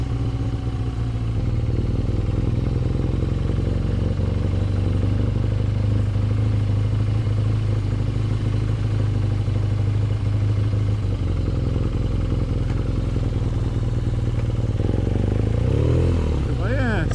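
A motorcycle ridden along country roads in the Cotswolds, its engine a steady loud drone with wind rush throughout, shifting slightly in pitch near the end.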